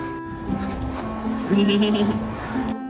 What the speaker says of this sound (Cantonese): 我哋而家睇羊仔，都唔係羊仔啊，好大隻肥羊，小肥羊